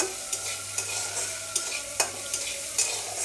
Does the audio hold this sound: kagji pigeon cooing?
no